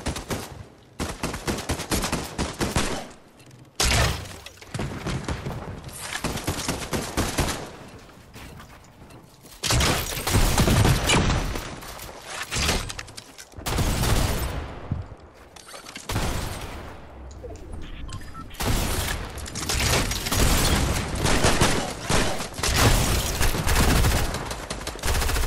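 Gunfire from a pump shotgun in a video game, with bursts of loud, sharp blasts spread through the stretch, some seconds of rapid fire and brief gaps between volleys.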